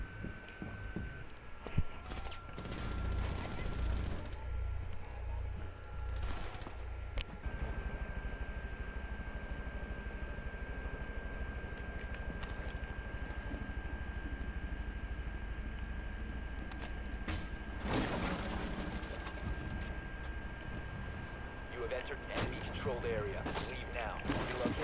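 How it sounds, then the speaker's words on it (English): Gunfire in the tactical shooter Rainbow Six Siege comes as faint, scattered shots and short bursts over a low, steady background hum across a long stretch, with a voice speaking now and then. "Whoa, what is he shooting me from?"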